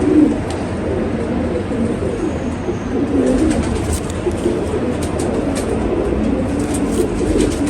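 Pigeons coo steadily in a breeder's loft of racing pigeons, a continuous low murmuring chorus of many birds close by, with faint rustling and no talk.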